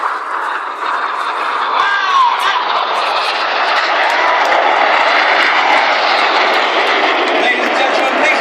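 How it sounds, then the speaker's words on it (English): Red Arrows synchro pair jets sweep low over a crowd at an air display, a loud sustained roaring jet rush across the whole clip, with a voice commentating over it. "the synchro pair for their final manoeuvre, back down to 100 feet for the opposition barrel roll"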